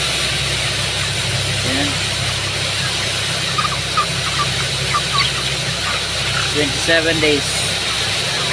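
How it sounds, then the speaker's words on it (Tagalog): An automatic feeder line runs inside a broiler chicken house with 27-day-old birds, a steady mechanical drone beneath scattered clucks and chirps, while someone speaks briefly over the din. "So maingay dito sa loob mga ka-chicken kasi nagpapaandar tayo ng ating feeder line"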